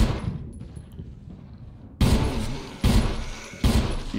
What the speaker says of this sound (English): You'd think a shotgun blast would have done it.